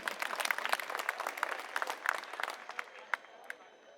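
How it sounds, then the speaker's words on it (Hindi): A crowd applauds at an Aam Aadmi Party political rally in Delhi with dense, energetic clapping that thins into scattered claps and fades toward the end. "मैं चाहूंगा एक बार जोरदार तालियां अपने लिए आप लोग बजा लीजिए।"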